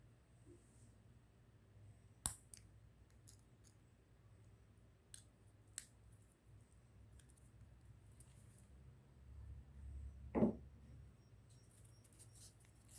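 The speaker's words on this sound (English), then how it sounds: "Now I'm going to cut down my toenail." An acrylic toenail is cut down with a few sharp, isolated clicks and snips spread over a quiet background, one louder crunching cut near the end.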